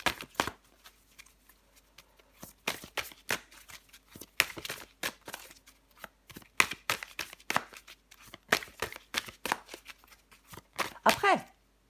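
Tarot cards shuffled in rapid bursts of crisp flicking and riffling, close and fairly loud, with short pauses between runs across the whole stretch.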